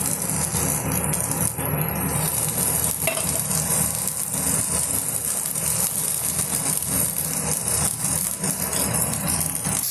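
Food frying in oil in a pan, a dense steady sizzle with faint rattling and stirring noises running without a break, fairly loud and close.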